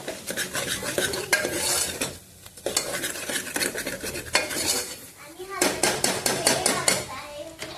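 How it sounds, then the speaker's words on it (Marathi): A spoon scrapes and clanks against a pot while Solapur-style mutton rassa with turmeric is stirred, giving busy, uneven metallic knocks over a faint sizzle, with brief pauses between bursts. "आता लागेल तसे टाकायचे हलवून घ्यायचं"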